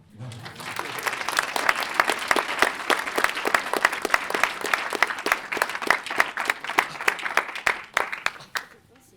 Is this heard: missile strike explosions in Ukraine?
no